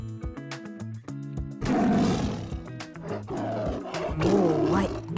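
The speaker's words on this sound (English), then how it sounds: "That's right, it's a tiger." A tiger roars in a children's animal-sound guessing game, several deep, loud, rasping roars in a row, preceded by light music, with no speech.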